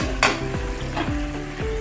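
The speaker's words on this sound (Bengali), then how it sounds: "মাংসটা ভাজা ভাজা হয়ে গেছে" Chicken pieces fry with onions in a hot pan, a steady loud sizzle broken by repeated scraping stirs of a utensil against the metal.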